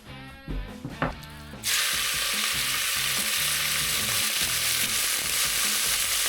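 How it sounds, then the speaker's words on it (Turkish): Meat dropped into hot olive oil with garlic, first some clatter of handling, then a sudden loud, continuous sizzle and crackle of frying that carries on steadily and close by. "Yağ kızdığına göre eti ekliyorum artık içine."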